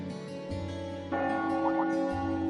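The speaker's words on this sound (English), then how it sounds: "That must be Heimdall Cathedral's bell. It has a solemn, stately sound, wouldn't you say?" The cathedral bell of Heimdall in the game Trails of Cold Steel, sustained bright tolling tones that swell and overlap with a soft musical backdrop, no voices.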